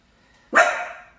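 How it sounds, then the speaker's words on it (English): A big guard dog lets out a single loud, close bark that rings briefly in a quiet indoor room, with no talking over it. "he's a big old guard dog."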